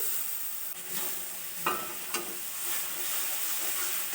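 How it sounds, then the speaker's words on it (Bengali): Tomato paste frying in a pan for a crab curry, with a steady sizzle and hiss and a few sharp scrape-like bursts of stirring near the middle. "টমেটো পেস্টটা করে কষিয়ে নেব ভালো করে"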